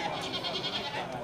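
Male kacang goats bleat at a livestock market, their wavering cries rising over a person talking nearby.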